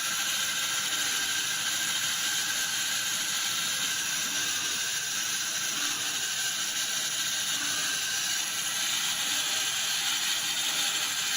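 A portable band sawmill with band wheels runs steadily under load, giving a continuous close mechanical whir and rattling hiss with no pauses and no talk.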